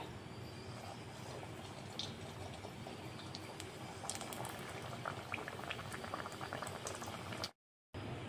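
A steady bubbling hiss of semolina (sooji) puris frying in hot oil, with occasional small pops, continuous until a brief cut near the end.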